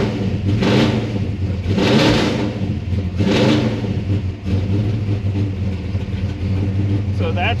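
A car engine fitted with a Progression ignition system revs up in three rising swells over a steady idling rumble, close and loud.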